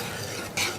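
Spaghetti and meatballs in tomato sauce are stirred in a pan with a soft, continuous wet sizzle and scraping, quiet and close, brightening briefly near the end.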